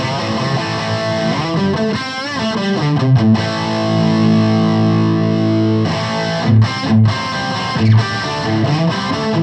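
A heavily distorted electric guitar played through a modeller straight into DI, with sustained chords and rhythmic chugs, loud and upfront, with brief pauses near the end.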